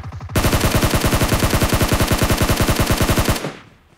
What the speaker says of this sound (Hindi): चलाओ गोली